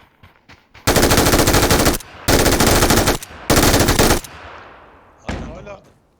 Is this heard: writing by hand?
no